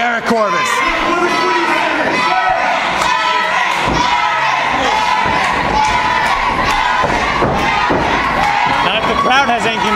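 A wrestling crowd roars continuously at an independent pro wrestling show, loud and dense with cheers and shouts, while thuds and slams from the ring and a commentator's voice cut through.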